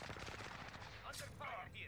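Rapid gunfire in the video game Warzone, a dense, continuous rattle of shots throughout, fairly faint and compressed, with brief higher bursts near the end.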